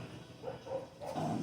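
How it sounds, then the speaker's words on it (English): Dogs bark outdoors somewhere away from the mic, a short series of muffled, low woofs heard faintly in the distance. "the dogs are barking now too"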